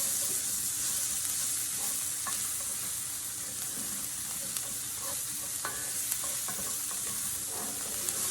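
Chicken and rice in a single pan are stirred over a constant sizzle, with a spoon scraping and clicking now and then, close up and without talking.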